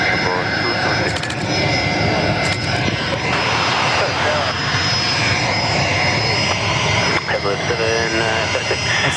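A Singapore Airlines jet, flight 226, takes off from runway 03 at Perth Airport with a loud, sustained engine roar throughout, with a voice, likely radio chatter, faintly under it.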